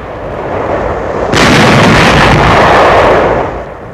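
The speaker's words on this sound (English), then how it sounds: "Firing on enemy barges in the Rhine before Dusseldorf." Gunfire on enemy barges in the Rhine near Dusseldorf in 1945 WWII footage, a loud continuous roar of heavy firing that swells sharply and holds before easing, with no talking.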